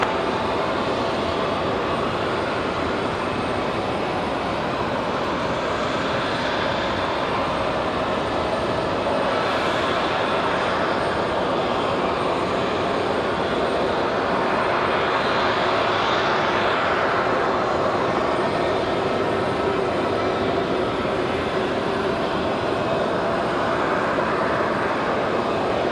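Airplane landing on the runway at Raleigh-Durham International Airport: a loud, continuous engine roar and rushing noise that swells and fades over about twenty-five seconds.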